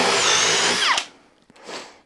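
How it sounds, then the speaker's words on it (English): A Makita drill bores with a 1-inch boring bit, a loud high motor whine that bogs down as the bit bites, then stops abruptly, followed by faint settling noise. "now the Makita, going with the same 1-inch boring bit on"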